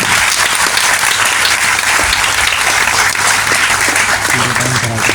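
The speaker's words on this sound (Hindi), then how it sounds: "मैडम जी के लिए तालियां बजा दो ना" A school-event audience claps steadily for a mother invited onto the stage, dense sustained applause filling the room at close range with a faint voice and background hum underneath.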